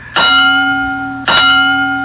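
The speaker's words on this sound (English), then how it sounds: "The Ding Dong." A bell chime rings twice, each strike sharp and loud with a long, ringing sustain that carries over into the next stroke.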